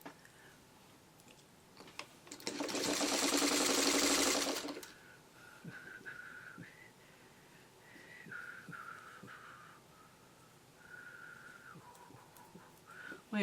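A sewing machine stitches quilt triangle units for a traditional Chutes and Ladders block, one steady loud whirring run of about two seconds, then quiet handling and faint ticks.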